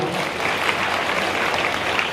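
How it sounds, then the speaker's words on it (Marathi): Steady, dense clapping from an audience welcoming a guest at a school function, filling the short stretch evenly with no voices on top. "आपण एक जोरदार टाळ्या त्यांचं आपण स्वागत करू"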